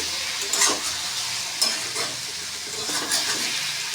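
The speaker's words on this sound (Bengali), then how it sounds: "এবার একটু ধনে পাতাটা একটু দিয়ে নেড়ে চেড়ে নিলাম রান্নাটা রেডি" Vegetarian bottle gourd curry with coriander leaves being stirred in a pan, gentle sizzling under repeated scraping strokes of a spoon, close and moderately quiet, no voices.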